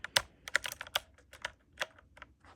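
Several computer keyboard keys pressed in a quick, irregular run of sharp clicks, close and fairly loud, while trying to take a keyboard out of retail demonstration mode.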